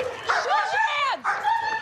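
A police dog at a rooftop arrest scene gives close, loud barks and high whining yelps, a few quick cries in a row over a steady hum of background noise.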